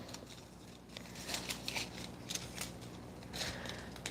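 Small scissors snipping a piece of nail art transfer foil close up: a handful of crisp, quiet cuts spaced irregularly over a soft background hiss.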